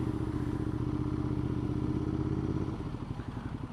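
A Ducati Multistrada 1200 motorcycle engine runs steadily close by, a loud continuous throb that shifts to an uneven, lumpier rumble near the end, with no speech.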